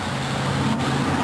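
A demolition derby car engine runs at a 1989 mud bog racing and thrill show in the Houston Astrodome, a loud, steady low rumble with no break across the brief moment.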